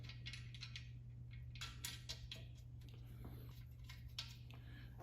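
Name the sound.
tightening bolts with a Phillips screwdriver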